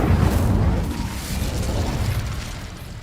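Incendio fire spell cast in Hogwarts Legacy, a loud whooshing burst of flame at the start that rumbles and crackles steadily and slowly fades over three seconds, no talking.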